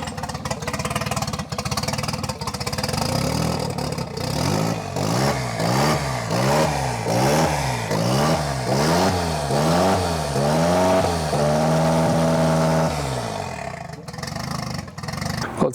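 A Toyota Starlet engine fitted with a TD05 high-mount turbo starts and idles loudly, then revs repeatedly in rhythmic rising and falling bursts before holding steady and cutting back, recorded up close.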